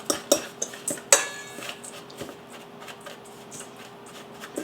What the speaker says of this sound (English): I'm going to take a fork and kind of mix them all together.